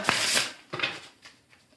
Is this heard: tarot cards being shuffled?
yes